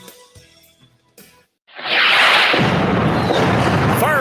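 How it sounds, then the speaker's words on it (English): Fireworks burst with a sudden loud, broad explosive roar that follows a quieter stretch of soft sounds and lingers as a sustained crackling rumble. "Fireworks season is here."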